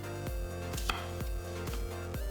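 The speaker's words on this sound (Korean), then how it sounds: "씨를 발라내고 3등분해서" Knife cutting through washed apples on a cutting board, seeds already removed, with about five firm, evenly spaced chops against a low steady background; no one speaks.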